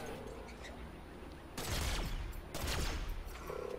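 Bursts of gunfire in the video game ReCORE, two loud rapid volleys about a second apart over a steady game ambience, followed by a lighter short rattle.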